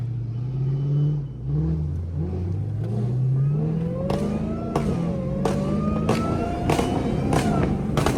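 A tuned Dodge Hellcat roars while driving through streets at night, its engine revving up through rising gears with loud, close pops and crackles on each shift.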